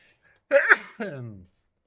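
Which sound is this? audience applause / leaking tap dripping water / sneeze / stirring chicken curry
sneeze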